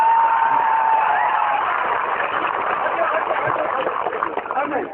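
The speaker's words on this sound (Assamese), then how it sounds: "জোরদার তালি ভাই, জোরদার তালি" A large crowd at a panchayat election rally in Dhubri, Assam claps and cheers as a steady, dense roar that stays loud throughout.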